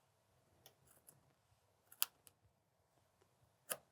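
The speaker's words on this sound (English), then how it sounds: "take my scissors and cut from here to here" Small scissors snip through quilting fabric in a few quiet, isolated clicks, with one sharper cut standing out near the middle and another near the end, set against a near-silent sewing room.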